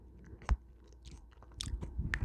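Close-miked chewing of apple slices in an ASMR setting, with a sharp crunchy bite near the start and further moist crunching bursts later, fairly quiet and with no talking.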